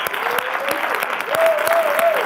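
Applause from a live audience honoring Dennis McKenna, a dense steady patter of clapping with a cheer or whistle rising partway through, lasting a couple of seconds.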